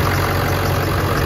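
A 1999 Ford F-250 with the 7.3L diesel engine and six-speed manual runs at a steady idle, a loud, close, unbroken low rumble with no talk over it.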